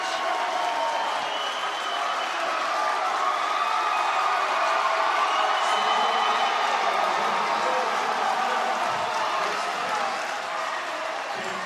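A large indoor crowd at a boys' high school basketball game roars and cheers continuously, a dense wash of noise that stays steady throughout.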